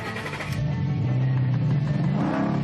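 An Audi R8 sports car engine revs hard and close, a strong sustained roar that builds after a brief lower growl and holds steady with a deep, rising tone.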